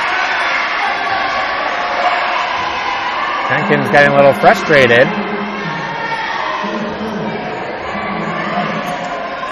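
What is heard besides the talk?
basketball crowd cheering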